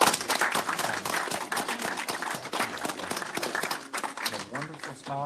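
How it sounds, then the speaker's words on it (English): Group clapping at a veteran community oversight board meeting during an award presentation, a dense steady patter that lasts throughout with voices mixed in. "We clap, Eugene."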